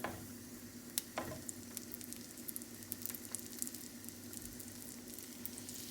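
Goan beef cutlets fry in shallow oil, giving a steady, close crackling sizzle throughout, with a couple of sharper pops and spatters near the start.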